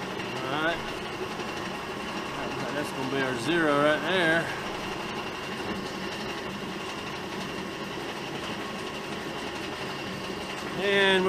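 A G&E metal shaper takes its first cut, its steady mechanical running and grinding churn going on throughout, with a voice talking over the machine noise.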